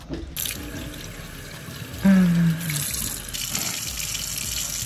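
Water runs from a kitchen faucet in a steady stream, fairly close and continuous, with a brief louder gush partway through.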